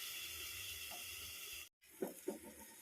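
Vegetables, brinjal among them, simmer under a partly covered pan over a low gas flame, giving a steady soft hiss with a brief gap and a few faint clinks near the end.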